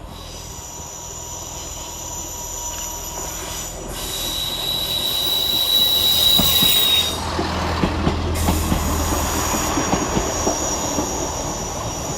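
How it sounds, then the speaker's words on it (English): An East Midlands Railway class 158 diesel unit, 158856, runs through Edge Hill station on a Nottingham to Liverpool Lime Street service. Loud, close wheel squeal and high screeching rise and fall over rumbling rolling noise as the train passes. "Passing through next for East Midlands Railway is 158856, working 1 Romeo 74 from Nottingham to Liverpool Lime Street."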